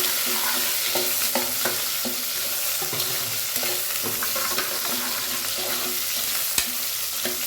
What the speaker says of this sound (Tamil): கருவேப்பிலை போட்டு எடுத்துக்கிட்டு சும்மா வேலை போட்டுக்கிறேன் இதுவும் நல்லா பொரிஞ்சு வரணும் நமக்கு